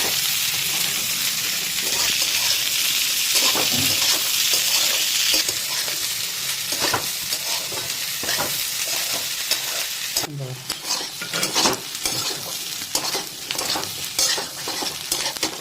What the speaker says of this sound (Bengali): এখানে আলু পেঁয়াজ ভাজাটা দেখুন চলছে